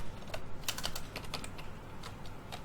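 Soft, quick typing on a computer keyboard, a steady patter of light key clicks heard close and alone at low level.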